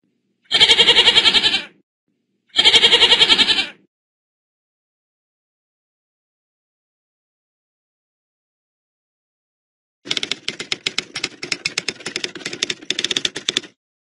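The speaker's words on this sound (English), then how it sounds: "G is for goat." Two loud, close goat bleats about a second each, separated by a short pause, then a long silence before a patch of dense, rapid clattering noise unrelated to the animal.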